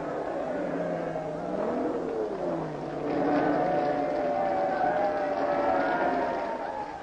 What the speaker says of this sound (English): Aston number 6 comes in to finish second